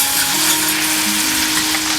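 Caramel with vanilla sizzling in a hot pan while making bananas Foster at home, a steady close frying hiss with a faint tonal hum underneath, continuous and without talk.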